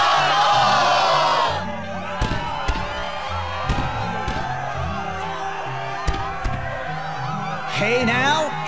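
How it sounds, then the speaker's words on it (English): Game crowd cheering at the Struggle arena in Kingdom Hearts 2, a loud roar that cuts off early, followed by in-game music with hits and swells and another brief burst of crowd noise near the end. "Yes, the crowd is fired up"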